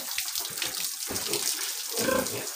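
Water splashing and sloshing as piglets wallow in it, with a few soft grunts mixed in, close by and continuous.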